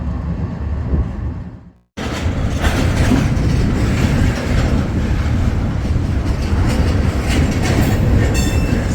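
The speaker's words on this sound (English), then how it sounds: "Same train, other end of town." A loud train rumbles past close by with rhythmic clickety-clack of wheels on rails, following a brief moment of near silence at the start.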